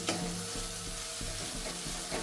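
Mawa roasting in a pan with ground dry fruits for gundar pak, stirred continuously with soft repeated scrapes over a steady faint sizzle, close and without voices.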